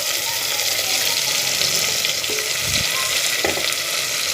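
Onion and freshly ground paste sauté in a pan with a steady, close frying sizzle and occasional scraping stirs, no voices.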